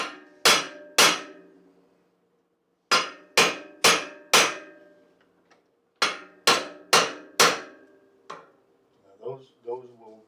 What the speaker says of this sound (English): now I'm going to use that dome to rivet these over